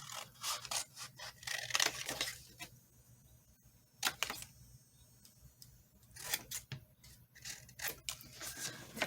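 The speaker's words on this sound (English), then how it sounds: "I'm going to cut some more pieces out of it, cut it down a little." Scissors snip through paper card pieces at a crafting table for autumn journal cards, a series of short crisp cuts and scrapes clustered in bursts with quiet pauses between, close and moderately soft.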